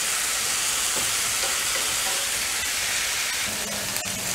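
Shrimp roast over high heat in a frying pan, giving a constant, dense sizzle and hiss with faint scraping stirs throughout, close and with no talk.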